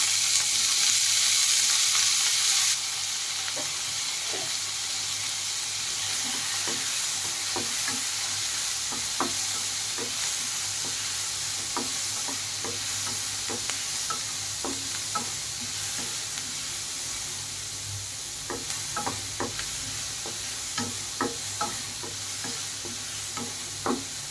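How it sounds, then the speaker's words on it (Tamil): Fennel seeds and shallots frying in hot oil for a crab curry, a soft steady sizzle with frequent spoon clicks and scrapes against the pan, close and quiet with no voices. "சோம்பு நல்லா பொரியட்டும்"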